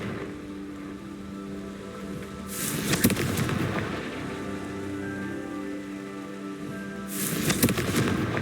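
A Confringo fire spell blast in the video game Hogwarts Legacy, two crackling, bursting explosions a few seconds apart over a steady background hum, loud and close.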